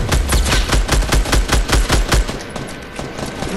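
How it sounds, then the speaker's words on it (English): Rapid automatic gunfire in the Fortnite Battle Royale video game: a loud burst of about a dozen shots in quick succession, then a quieter tail of fainter distant shots. "why is he shooting me the first?"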